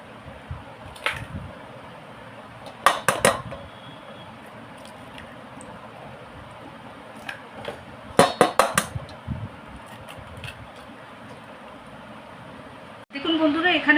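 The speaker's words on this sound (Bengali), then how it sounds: "এখানে আমি 12টা ডিম যে ফাটিয়েছি" Eggs being cracked on a bowl rim, sharp clustered taps in a few separate bursts over a quiet fan-like background hum, with a louder clatter at the end.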